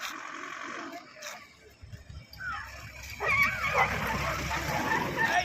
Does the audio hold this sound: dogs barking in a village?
yes